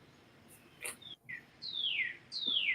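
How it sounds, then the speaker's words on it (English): Birds chirp outdoors in a few short bright calls, then two longer descending whistled notes, moderately close over a soft background hiss. "You hear the birds chirping?"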